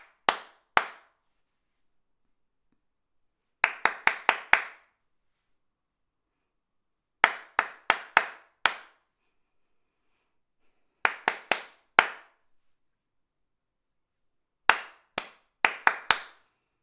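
Hands clap out short rhythmic patterns of four to six quick claps, repeated in five bursts separated by pauses, crisp and close in an otherwise quiet singalong session.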